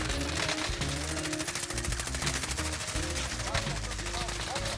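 Rapid automatic gunfire in a Call of Duty: Warzone match, dense bursts of machine-gun shots crackling almost continuously and loudly throughout, with a voice talking briefly underneath.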